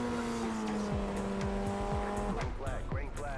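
Race cars in the iRacing sim game pull away from a rookie-class grid start, several engines droning together with rising revs and gear changes, tire noise over a continuous loud roar.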